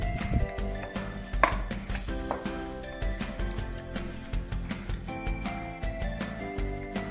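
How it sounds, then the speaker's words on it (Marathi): Roasted green brinjal is smashed for Khandeshi bharit with a rapid, irregular series of close, dull thuds and knocks, continuing steadily throughout with no talk. "पहिले भाजलेल्या वांग्याला चांगलं स्मॅश करून घ्यायचंय"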